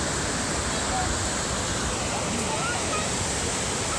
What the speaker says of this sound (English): this is called Kegon waterfall